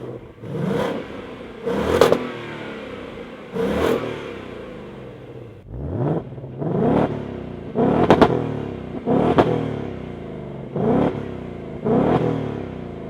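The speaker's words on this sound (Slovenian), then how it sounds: "Ima pa po ta novem tale Mustang tudi že rev limiter, tako da pač ti pusti ga porevati do 5000 obratov" Ford Mustang Dark Horse V8 being revved while parked, with the rev limiter holding it near 5000 rpm: a series of about nine sharp, loud throttle blips, each a rising roar that quickly drops back to idle, close to the car.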